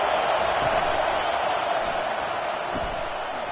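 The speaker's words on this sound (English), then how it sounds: "Decibels rising as the crowd gets behind this defense on third down" A packed college football stadium crowd roaring for the Wisconsin defense on third down against Alabama, a dense, loud, continuous wash of cheering with no breaks.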